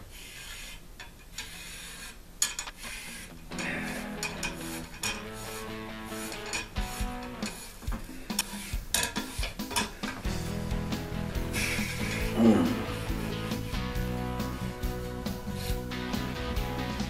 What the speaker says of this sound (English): let's go ahead and scratch her up. See what we can scratch up the rust on the inside.